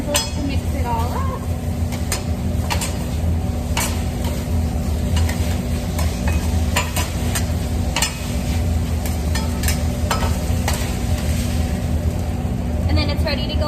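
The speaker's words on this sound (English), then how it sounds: "use your saucy set of grill utensils to mix it all up" Grill utensils clink and scrape while stirring grilled vegetables with Thai sauce for a brown rice and quinoa bowl, a steady sizzle underneath and a voice talking over the busy mixing.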